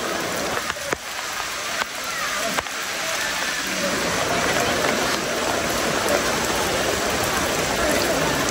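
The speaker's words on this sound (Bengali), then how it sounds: "বৃষ্টির অবস্থা খুবই খারাপ।" Heavy rain falling near Sahasradhara waterfall, a dense, steady hiss of downpour with a few sharp knocks early on, loud and continuous throughout.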